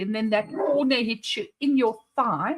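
Dogs bark indoors in short bursts mixed in with a person talking steadily over them, the yaps close but partly masked by the voice.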